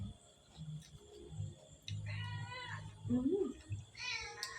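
A pet cat meows a few times at mid-range, its wavering cries rising over low background talk and household noise.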